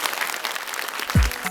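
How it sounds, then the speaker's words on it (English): Brief audience applause closing a secondary school presentation, a steady wash of clapping with a low thump near the end. "please give a warm round of applause"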